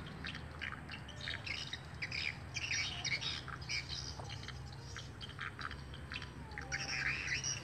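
Recorded swiftlet calls play inside a seven-year-old swiftlet house: faint, repeated chirps and squawks in irregular bursts, echoing over a low background hum.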